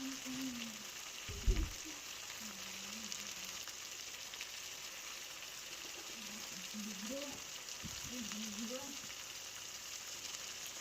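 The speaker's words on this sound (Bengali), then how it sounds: "এবার আবার কষাতে থাকবো" Chicken kosha cooking in a pan, a continuous sizzle of frying spices and meat with occasional scraping stirs, close and fairly quiet; a voice speaks over parts of it.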